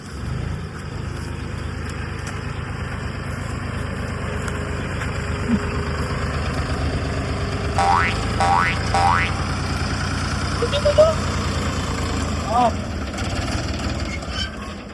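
A tractor engine runs at a steady, low rumbling idle throughout, close and continuous, with a few brief metallic twangs partway through and faint voices in the background.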